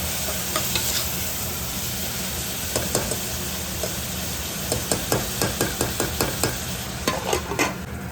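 Onions with salt cooking in a pan, a steady sizzle broken by a run of sharp spoon clicks and scrapes against the pan as they are stirred, growing busier toward the end.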